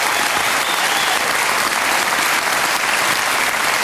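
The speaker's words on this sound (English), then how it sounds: "you can have another little applause in between" Loud, dense studio audience applause on a Swiss TV lottery show during a Lenny Kravitz appearance, a continuous wash of clapping at even intensity throughout with no gaps.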